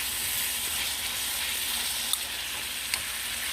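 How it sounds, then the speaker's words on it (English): Meat sautéing in a pan for cheesesteak sliders, a soft steady sizzle and hiss with two faint sharp clicks late on. "So I'm sauteing this right now."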